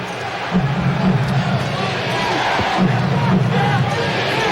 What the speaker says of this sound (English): Crowd chanting defense.